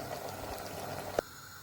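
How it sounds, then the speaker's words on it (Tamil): Soft, low bubbling of chickpeas simmering in water in a pot nearby, a gentle continuous burble with one small pop. "இந்த கொஞ்சம் தண்ணியும் நல்லா வத்துற வரைக்கும் இதை கொஞ்சம் அவிய விடலாம்"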